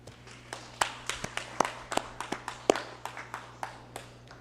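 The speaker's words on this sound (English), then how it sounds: "Let's give all of them a round of applause." A small group claps during a congressional session, making sparse, irregular handclaps that keep a loose rhythm over a steady low background hum.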